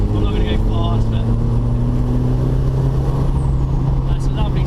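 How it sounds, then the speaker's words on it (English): A turbocharged 364bhp Mazda MX5 drones at a steady, loud exhaust note with a faint high turbo whistle riding on top, sustained without pause from a close in-car position. "Just the exhaust note, you can hear the turbocharger through there"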